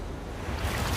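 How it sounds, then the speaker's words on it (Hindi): A big ocean wave crashes near an island shore, a broad, steady roar of surf and rushing water with wind noise, swelling slightly toward the end. "ये आई बड़ी लहर।"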